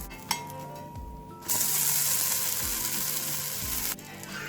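Rava dosa frying in oil on a pan, a soft crackle that swells into a loud, steady close sizzle for a few seconds and then drops back down.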